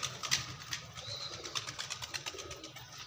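Pigeons coo on a rooftop in a soft, steady stream of murmuring calls at moderate distance, with no talking.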